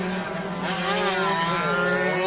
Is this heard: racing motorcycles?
yes